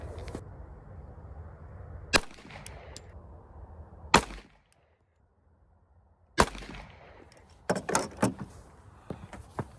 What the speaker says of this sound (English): the next thing we'll do is shoot these 230 grain Sierra Jacket